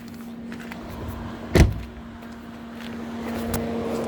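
Interior bonnet release pull on a 2017 Ford Fiesta 1.0 EcoBoost ST-Line, a single sharp clunk near the middle standing out over a quiet steady hum, with a fainter click shortly after.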